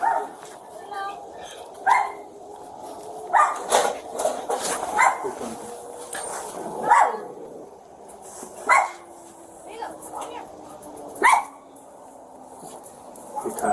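Dogs bark repeatedly in sharp, loud bursts with some yips and whimpers during a police bodycam call at a house, scattered irregularly over steady background noise, with people talking at times.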